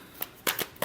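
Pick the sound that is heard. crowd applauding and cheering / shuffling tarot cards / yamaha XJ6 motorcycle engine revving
shuffling tarot cards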